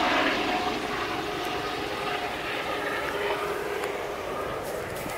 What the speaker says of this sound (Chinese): 这有架直升飞机